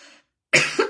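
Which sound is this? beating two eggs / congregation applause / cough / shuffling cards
cough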